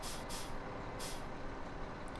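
Kenworth log truck heavily loaded with logs braking on a dirt slope in Farming Simulator 17: a loud engine rumble with sharp bursts of air-brake hiss.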